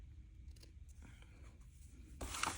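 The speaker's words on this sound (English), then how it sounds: "I'm just going to take the end off diagonally with some little scissors that are really, really sharp" Small, very sharp scissors snip the end of a ribbon diagonally on a handmade Christmas card, a quiet close crisp cut after faint handling rustles.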